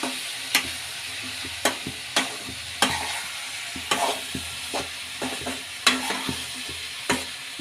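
Capsicum pieces with ground masala being stirred and fried in a pan, a soft steady sizzle broken by repeated sharp scrapes and clacks of a spoon at irregular intervals.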